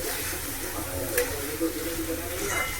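Water poured into a pan of spiced curry frying in masala, a soft steady sizzle and bubbling hiss heard close up, quiet and continuous.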